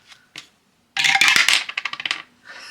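Dice tumble and clatter across a small dice tray, first two light taps and then a bright, close rattle that settles through a run of quickening bounces before stopping, with no speech.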